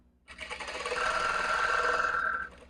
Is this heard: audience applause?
no